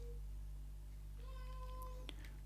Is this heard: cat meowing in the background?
yes